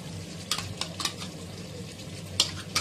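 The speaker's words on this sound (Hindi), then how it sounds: "दही को डाल के इसको हम चिकन को भून लेंगे" Chicken browning with yogurt for korma sizzles softly in a pan as a spoon scrapes and stirs in several quick, irregular strokes, close by, with no one speaking.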